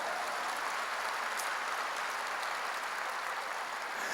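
A church congregation applauds, a steady even wash of many hands clapping that stays constant throughout, fairly close and filling the room.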